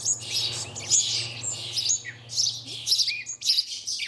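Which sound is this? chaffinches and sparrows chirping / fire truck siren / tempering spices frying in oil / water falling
chaffinches and sparrows chirping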